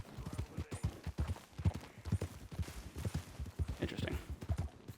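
Horse hooves clip-clop in a steady walking rhythm in the Red Dead Redemption 2 video game, close and fairly quiet, with someone talking over the steps.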